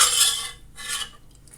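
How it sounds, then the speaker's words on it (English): Onions stirred in a pan with a spatula while cooking breakfast, giving two bursts of bright scraping and sizzle, close and fairly loud with a brief lull between. "now I'm just going to get a spatula and start stirring it"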